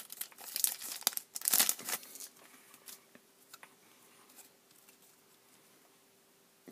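A Yu-Gi-Oh Legacy of Darkness booster pack torn open by hand, loud close crinkling and ripping of foil in quick bursts, then softer rustles and handling of the wrapper and cards.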